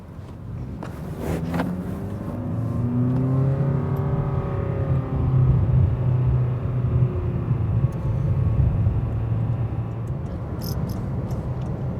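Inside a Honda Clarity on surface streets, a steady low road-and-motor rumble holds throughout, with a faint rising whine as the car picks up speed and no talk.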